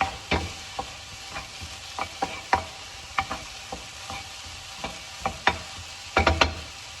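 Onion and finely chopped garlic for a Mexican roast stuffed pepper filling cook lightly in a pan under a soft, steady sizzle, with irregular close clicks and taps of a utensil stirring against the pan.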